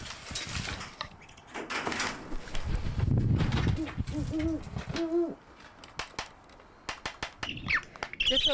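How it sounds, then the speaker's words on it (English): A very vocal great horned owl hoots repeatedly at close range, deep rhythmic calls mixed with squawks and other outdoor noises. "drawn in by a very vocal great horned owl"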